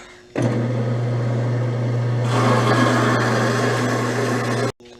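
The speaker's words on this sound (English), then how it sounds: "I'm going to cut the H-beam with a bandsaw." A bandsaw cuts through a steel H-beam with a steady, loud mechanical hum and whine. It runs unbroken for about four seconds, then stops abruptly.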